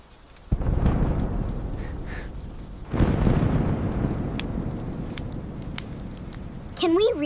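Heavy rain pours during a night thunderstorm as two deep thunderclaps crack and roll out in long rumbles, one early and one midway, and a voice briefly sounds at the very end.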